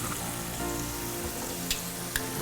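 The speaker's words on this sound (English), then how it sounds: "one cool thing with chicken when you're frying it" Chicken fries in hot oil in a street kitchen, a dense, steady sizzle and crackle with a couple of sharper pops, close and continuous.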